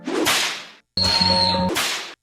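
Whip crack sound effects from a Roblox game: two hissing whooshes, each ending in a sharp snap. The gap between them holds a ringing tonal ding, and the whole thing is loud and clean, with no talking.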